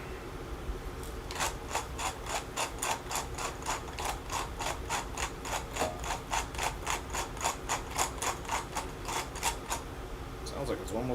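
A pepper mill grinds black pepper in a long run of steady, evenly spaced ratcheting clicks, close and distinct over a low room hum.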